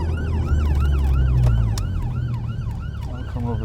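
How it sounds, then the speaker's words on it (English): Ambulance siren wailing close by in a rising and falling pattern, loud over a running car's engine. "There's an ambulance."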